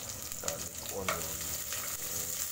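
Garlic and onion sautéing in a pan before chicken liver is added, a steady close sizzle with a few soft stirring scrapes running through.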